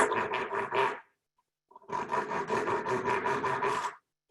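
A knife saws back and forth through a cake with a raspy scraping rhythm, a short burst, a pause, then a longer run of quick strokes.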